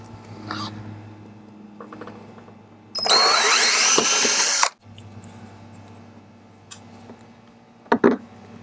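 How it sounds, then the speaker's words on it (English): A power drill whirs loudly for about two seconds, drilling holes for Jeep Wrangler bumper end cap tabs, amid quieter clicks and handling noises of tools nearby. "All we gotta do is drill the holes"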